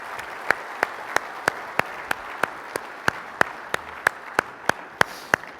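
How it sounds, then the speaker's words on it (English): A modest audience at a boat and marine industry conference claps steadily, an even bed of applause with a few sharp, louder individual claps standing out at a regular pace. "Let's give these members a round of applause."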